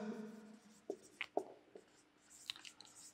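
Faint scratching and tapping of a pen on paper while writing out an accounting entry by hand, a few soft strokes spread across about three seconds.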